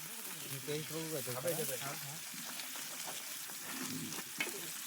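Oil sizzles and fries in a pan over a wood fire at an outdoor New Year's Eve party, a steady crackling hiss running under loud overlapping voices and music.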